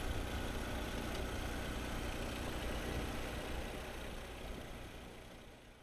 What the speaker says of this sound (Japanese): かさつくエンジンのノイズが谷間に柔らかく反響します。